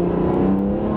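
A turbocharged 2011 BMW 1M engine pulls hard under acceleration, a steady, loud droning growl with rising tone, heard close from inside the car.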